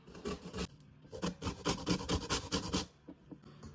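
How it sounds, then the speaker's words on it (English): An orange is zested in quick, close, faint rasping strokes, a short burst of scratchy scrapes that pauses briefly and then resumes. "Meanwhile, I'm going to get orange zest going."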